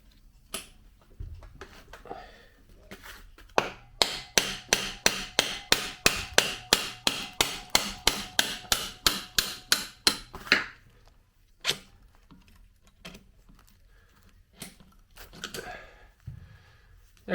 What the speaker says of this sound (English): I was tapping on this end with the brass hammer just to make it slide better.